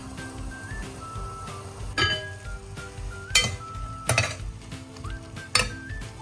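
Pork and tomatoes being stirred in a cooking pan for Filipino pork kinamatisan, with a metal utensil clinking and scraping against the pan in irregular knocks, a few sharper clanks standing out over a low background hum.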